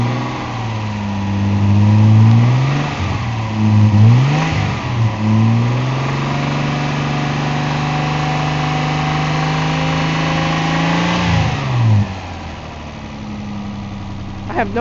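A 1990s Dodge, Ford Probe or Hyundai Elantra car engine revs up and down roughly with surging, uneven pitch, then holds a steadier, smoother drone; close and loud throughout.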